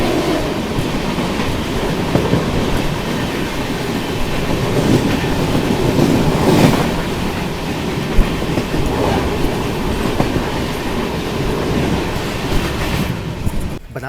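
The 22535 Rameshwaram–Banaras weekly superfast express passes near Gyanpur Road station in Bhadohi district, Uttar Pradesh, a loud, steady rush of rolling wheels and rhythmic clickety-clack lasting throughout, heard close with no talking.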